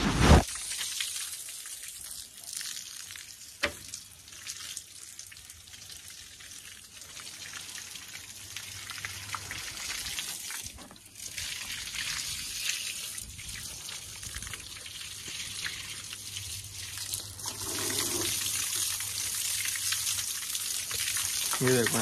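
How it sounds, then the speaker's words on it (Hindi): Water sprinkled onto a roof patters and hisses across the hard surface in a continuous spray, rising and falling, with faint background noise and no talking. "पानी छिड़कता हूँ तो देखते रहो आप भी।"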